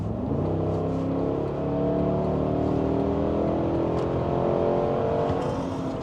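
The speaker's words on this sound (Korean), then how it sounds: "예를 들어서 지금 저희가 80으로 달리고 있는데 엑셀을 풀악셀을 밟아" A Cadillac Escalade ESV with a naturally aspirated V8 accelerates at full throttle from about 80 km/h, the engine note climbing steadily in pitch as it revs through a gear, heard from inside the cabin.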